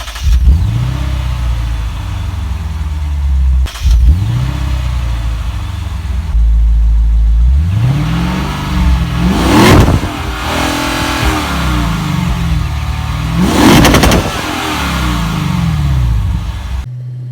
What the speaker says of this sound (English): Check out the engine making that exhaust